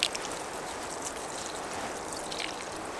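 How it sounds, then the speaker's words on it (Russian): Cooking water from boiled potatoes pours out through a colander at a field kitchen, a soft steady trickling and splashing that stays faint and continuous. "Вот он, дуршлачок наш, подставляем и сливаем водицу."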